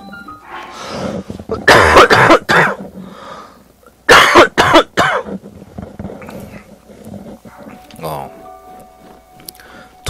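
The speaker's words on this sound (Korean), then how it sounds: "왜 갑자기 기침이 나지?" A person coughs in loud, harsh bursts, two clusters of rough hacking coughs close to the microphone, separated by quieter breathy sounds and some background game noise.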